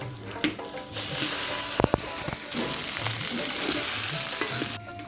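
Street-style egg chowmein stir-fried in a hot pan, with a loud continuous sizzle and hiss broken by scraping stirs and a few quick metallic taps, close up.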